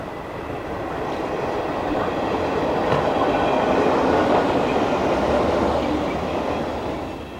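A British Rail engineer's train rumbles past close by on the Tilbury line west of Barking in 1998, steady broadband roar swelling in the middle with faint clickety-clack of wheels on rails, then easing slightly.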